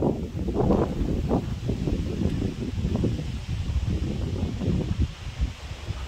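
Strong gusty wind during a violent thunderstorm near Grenoble in the Alps roars against the microphone in a broad, continuous rush that swells and buffets without pause.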